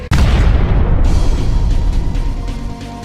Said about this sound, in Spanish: en ese momento se escucha una explosión